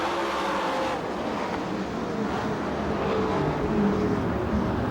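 USAC/CRA sprint cars race again after a restart at Perris, California, a dense, continuous engine roar from the pack droning at steady loudness, heard from the stands without commentary.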